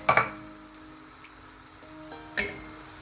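Half an onion frying in a pan while being stirred: a soft, close sizzle broken by sharp scraping bursts at the start and again near the end.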